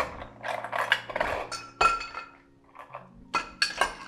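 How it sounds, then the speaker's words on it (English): Cold, clear draft ice cubes cracked apart with a bar tool for a cocktail, producing a run of sharp, close clinks and crunching snaps in quick bursts with short pauses between them. "Let's give the first ice cube the old cracky poo, shall we? Maybe one more cracky poo."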